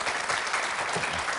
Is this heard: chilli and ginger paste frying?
no